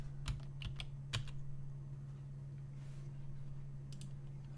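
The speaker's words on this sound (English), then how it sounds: "Keyboard is knackered." Keys clatter on a worn-out computer keyboard in a few quick bursts of typing, sharp close clicks separated by pauses over a steady low electrical hum, with no voices.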